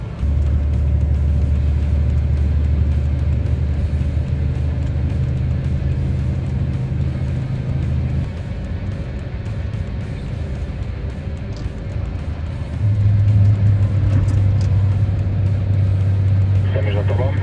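A Volvo FH16 750 heavy truck hauling a 113-ton oversize load drives on with a loud, steady low engine drone that dips midway, then swells again as power builds, with voices talking over it.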